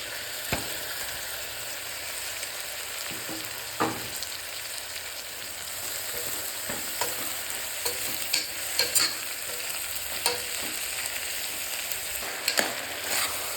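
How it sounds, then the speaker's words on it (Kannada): Chopped tomatoes frying with onions in a pan for tomato bath give a steady close sizzle, broken by frequent sharp clicks and scrapes of a spoon stirring against the pan, with no talk. "ಏನು ಟೊಮೆಟೊನ ಹೆಚ್ಚಿಟ್ಕೊಂಡಿದ್ದೆ ನಾನು ಅದನ್ನು ಹಾಕೋತಾ ಇದ್ದೀನಿ ಇಲ್ಲಿ"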